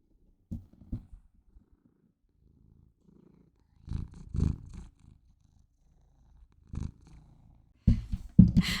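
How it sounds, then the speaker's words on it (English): Close, soft purring comes in intermittent rumbling bursts separated by quiet pauses, growing stronger toward the end. "I hope you can hear him purring."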